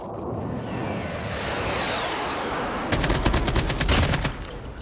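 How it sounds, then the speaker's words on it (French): Gunfire breaks out in the battle royale mode of Call of Duty Mobile. A loud burst of rapid shots rattles over the steady roar of aircraft engines and ambient game noise. "Ah, on a des tirs."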